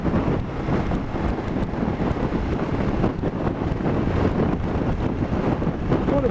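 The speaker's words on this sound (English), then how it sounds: "Quite a blustery day today." Strong, steady wind buffets the microphone while riding a BMW F750GS motorcycle on a blustery day, a dense continuous roar with no pauses.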